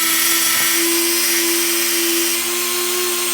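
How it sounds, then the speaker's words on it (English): A milling slitting cutter 50 thousandths of an inch wide plunge-cuts a screw slot in a drill head part for a universal pillar tool, giving a loud steady machine whine with a high tonal hum throughout and no talking. "The cutter itself is 50 thousandths of an inch wide, so it should give a nice screw slot."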